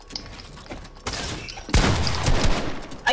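Bursts of gunfire from the video game Fortnite, a short crackle early on, then a louder dense volley from mid-clip to the end, close and loud with no talking.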